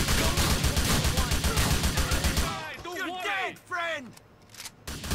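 Loud, rapid automatic gunfire in GTA 4, sustained for a couple of seconds before cutting off, followed by someone shouting and talking over faint background noise.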